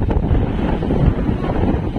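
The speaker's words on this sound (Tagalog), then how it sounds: "napakalakas po talaga ng hangin pati yung alon" Strong, steady wind at sea off Surigao roars across the microphone with a rushing, low buffeting that never lets up, with strong waves churning beneath.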